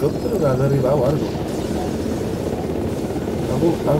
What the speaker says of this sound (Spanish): Helicóptero que ha derribado algo.